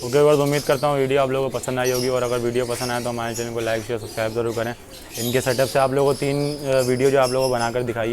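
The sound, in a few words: parrots calling in a bird loft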